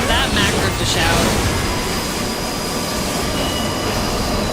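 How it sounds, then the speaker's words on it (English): Train riding noises in Final Fantasy XIV form a loud, constant rumble with squealing wheels and faint rhythmic clatter, with brief talk at the start. "Oh, train noises!"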